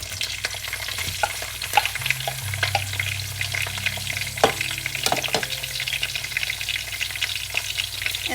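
Onions frying and being stirred in a pan of softened green chilies for an egg curry, a steady close sizzle broken by scraping spoon strokes and light clinks.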